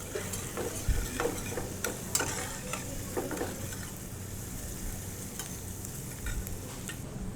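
Onions and whole spices such as shahjeera, bay leaf and cardamom fry in hot oil for Nilgiri mutton kurma, a steady close sizzle broken by several sharp stirring scrapes and clinks in the pan.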